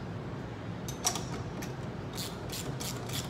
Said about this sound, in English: I go ahead and put the 6-inch extension and the 3-inch extension on my ratchet with a 9/16 socket